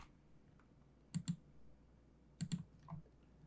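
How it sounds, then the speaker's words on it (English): A few quick keystrokes on a computer keyboard in two short bursts, faint and close in a quiet room, with no voice. "I'm going to type in emission."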